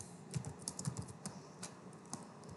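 Password being typed on a computer keyboard, a quiet run of light key clicks in uneven bursts, close and alone with no talk.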